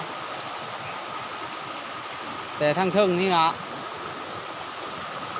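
A stream of water running under the ground beside a forest trail, a steady, even rushing hiss that continues throughout while someone speaks briefly in the middle.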